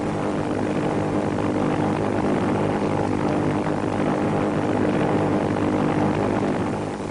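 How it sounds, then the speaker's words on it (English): Japanese attack planes fly southward toward the Philippines in archival wartime footage, a steady, continuous propeller-engine drone that stays loud and unbroken throughout, with no voices. "As the planes flew southward on their mission"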